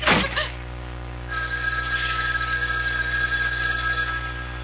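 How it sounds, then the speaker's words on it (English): A house telephone in a radio horror drama rings with a steady electronic bell tone, clearly audible after a brief loud burst at the start and sustained through most of the moment. "It was the house phone."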